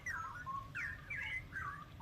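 A straw-headed bulbul (cucak rowo) chick calls in a series of short, bright chirping phrases, close and clear over quiet background hiss.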